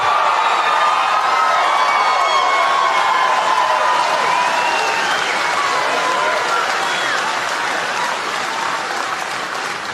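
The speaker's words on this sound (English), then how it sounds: "Crowd goes wild." A large crowd at a political rally erupts in loud, sustained cheering and applause with whoops, a dense roar that carries steadily through the whole stretch and eases off only slightly toward the end.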